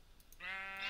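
A Minecraft sheep bleats once, a near, clear, wavering cry that starts after a brief quiet moment and holds to the end.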